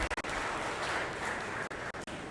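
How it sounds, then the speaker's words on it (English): Audience applause fills a restored hall, a steady dense wash of many hands clapping that runs throughout with a few brief dips near the end. "I think they deserve a round of applause for this wonderful work."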